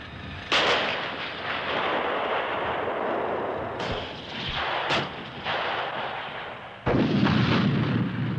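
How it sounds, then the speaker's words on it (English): Challenger main battle tank firing its 120mm L11A5 rifled gun, heavy booming blasts with several sharp reports over a continuous loud rumbling roar. "Main armament is the same 120mm L11A5 rifle gun as on the Chiften"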